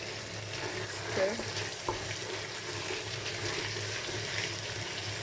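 Garlic and tomato paste fry in a pot for an African tomato stew, giving a steady close sizzle with a few scraping stir strokes and a light clink near the middle.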